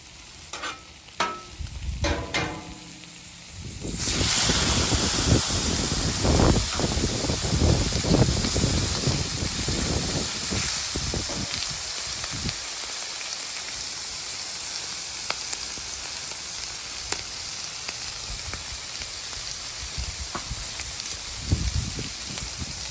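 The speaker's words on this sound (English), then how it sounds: "add some butter right to the middle. Let that melt, hit those shrimps in there" Butter and shrimp sizzling steadily on a hot flat-top griddle, a continuous loud crackling hiss with scattered spatula scrapes after a short quieter opening.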